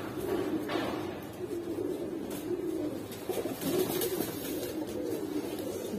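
Giribaz pigeons, a khaki hen paired with a cumin-necked cock, cooing at a pigeon market; repeated soft, low rolling coos in several bursts over six seconds, close by, with faint background thumps and no speech.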